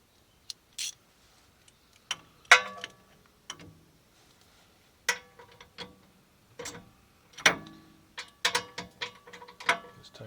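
A ratchet tightening 17 mm bolts on the rear brakes of a 2019 Honda Odyssey, with short bursts of clicking separated by pauses, close and fairly quiet.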